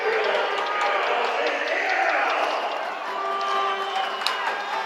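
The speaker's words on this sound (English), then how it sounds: "the fans applauding the whiffed chance there by Topeka" Hockey fans at a Wildcats versus Topeka RoadRunners game fill an arena with steady crowd noise and scattered applause after a missed scoring chance, while a commentator talks over it.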